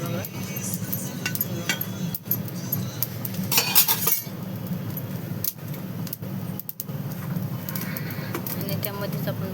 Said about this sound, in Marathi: तर चला आपण आता आपलं खोबरं पण भाजत आहे बघा.